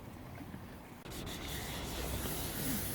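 Wet and dry 600-grade abrasive paper rubs over scratches on a perspex window of a Heinkel Trojan microcar, producing a continuous close hiss of sanding with a small bump partway through and no voices.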